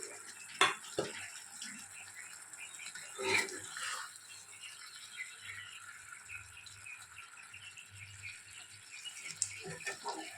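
Amodi fish jhal, a Faridpur-style fish curry, is stirred gently in a pan after coriander leaves go in. Soft scraping and a few sharp clinks and clatters sound close up over a faint, steady simmer.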